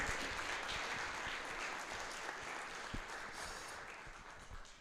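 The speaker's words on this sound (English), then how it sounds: "Round of applause." An audience at a university startup competition gives a round of applause, a steady, dense clapping that fills the room and holds throughout, moderately loud with no voices over it.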